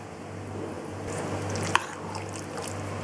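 Mixed maida flour batter goes into marinated chicken for dragon chicken, making soft wet squishes and drips as it is poured and worked in, with one brief sharp click partway through, close-up and without speech.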